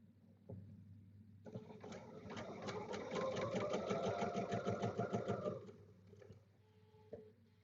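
A sewing machine stitches fabric for a kid-friendly summer project in a steady, rapid run of needle strokes that starts abruptly, holds for about four seconds, then slows and stops, with a soft tap or two afterward.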